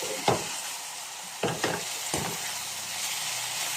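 Beef stir-fried with holy basil in a pan, a steady close sizzle with a few sharp scraping stirs of a spatula against the pan.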